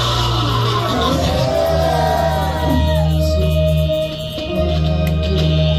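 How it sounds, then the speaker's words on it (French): A congregation loudly shouts hallelujah at a New Year's Eve worship night, the crowd's voices rising together over sustained keyboard or organ tones that fill the room throughout. "Crie plus fort alléluia."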